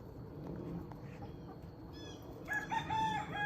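A rooster crows partway through, fairly loud over a low outdoor rumble, its drawn-out call rising and wavering before trailing off.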